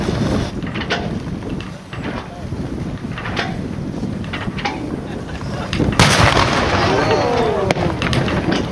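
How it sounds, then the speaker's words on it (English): A heavy ceremonial cannon salute fired by the Texas Army booms outdoors at the De Zavala Memorial, followed by rumbling echo and wind noise, with distant voices around it. "We're now going to have a cannon salute by the Texas Army."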